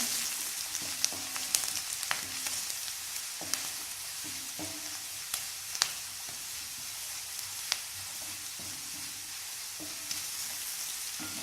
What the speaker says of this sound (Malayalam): ഇഞ്ചി ചേർത്ത് കൊടുക്കാം. പച്ചമുളക് ചേർത്ത് കൊടുക്കാം. നന്നായിട്ട് വഴറ്റിയെടുക്കാം.